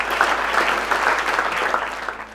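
A round of applause from a gathered group, a dense steady patter of clapping hands throughout, fairly close and with no voices over it.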